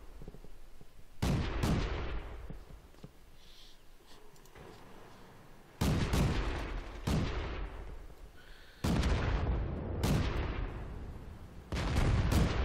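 Tank cannon shots from the World of Tanks game, an AMX 105 AM mle 47 on the Ensk map, boom loudly in four spaced blasts, each followed by a long rumbling decay.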